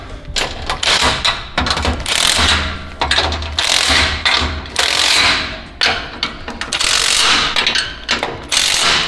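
Ratchet tightening clamp-on exhaust clamps on a 2019-2024 GM 6.6L, rapid clicking bursts repeating in short strokes with brief pauses, close and loud.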